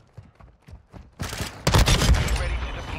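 Gunshots from the BAS-P rifle in Modern Warfare II: a few light shots first, then loud, sharp bursts of automatic fire in close succession for the remaining seconds.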